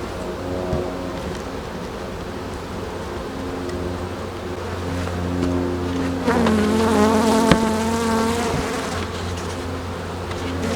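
Honeybees swarm around an opened hive as a hive super carrying bees is lifted off. A dense, close buzzing continues throughout and swells louder as bees fly near in the second half.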